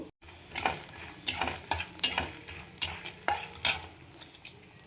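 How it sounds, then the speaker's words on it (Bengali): Homemade lentil bori are fried in oil in a pan, with a steady sizzle under repeated stirring scrapes and clinks of a utensil against the pan. "বড়িটা আমি ভেজে নেব।"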